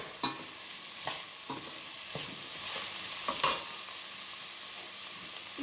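Mixed vegetables fry in oil in a pan for upma, giving a quiet, steady sizzle with several spoon scrapes and stirring strokes at irregular intervals, heard up close with no talking.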